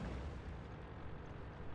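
A tank gun firing in the online game World of Tanks makes a single deep, heavy boom whose low rumble fills the short stretch, loud and close, with no speech over it.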